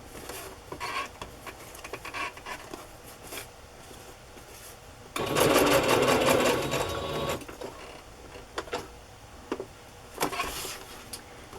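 A sewing machine stitches a chiffon ruffle onto fabric in a loud, steady whirring burst of about two seconds, framed by quieter handling taps and rustles before and after.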